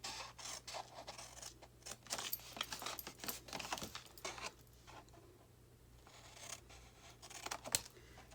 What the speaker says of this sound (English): Cut straight into our rectangle.